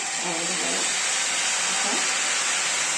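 Spicy rice flour ghavan batter poured onto a hot pan, giving a loud, steady, close hiss of sizzling that fills the whole moment without letting up.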